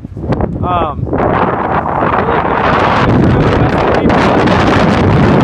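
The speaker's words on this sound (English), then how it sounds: "It's really windy" Strong wind on a cold Appalachian Trail hike buffets the microphone in a loud, continuous roar, with a brief voice-like sound near the start.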